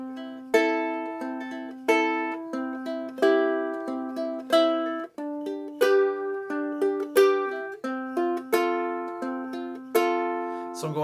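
A GCEA-tuned ukulele plays a repeating fingerpicked pattern of plucked notes over held chords, steady and rhythmic, close and clear with no talking, from a play-along lesson.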